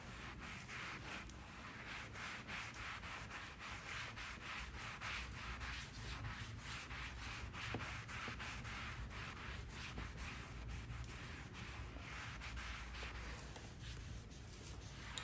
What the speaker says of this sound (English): I'll start wiping it with this towel to take that gloss off.